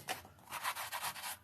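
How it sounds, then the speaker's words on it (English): Small sanding block rubbed back and forth over a book's wooden dowels, giving a series of soft, even scratchy strokes in a steady rhythm, close and quiet, with no talking. "I will use a little sanding block and just sand it down a little bit"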